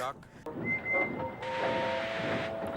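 A thin, steady train whistle blows in the background while indistinct talk and a hissy hum continue underneath.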